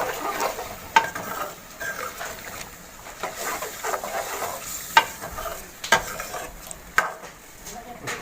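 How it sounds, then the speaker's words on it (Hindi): A spoon stirs chicken white karahi with cream in a pan: repeated scraping and knocks against metal over a soft steady sizzle, close and fairly loud, with no talking. "अब इसको अच्छी तरह हिला लें, अच्छी तरह हिला के"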